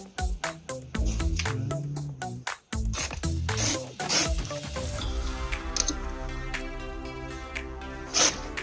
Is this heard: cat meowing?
no